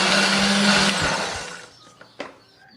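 A blender whirs loudly, grinding candlenut, garlic, shallot and coriander with a little water into a paste, a steady high motor roar close by that winds down after about a second and a half, followed by a couple of faint knocks.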